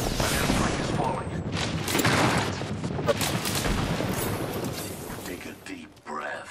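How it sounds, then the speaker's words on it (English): Airstrike explosions in the video game Apex Legends, a dense continuous barrage of booms and blasts that stays loud throughout, with a player talking over it. "An airstrike is falling."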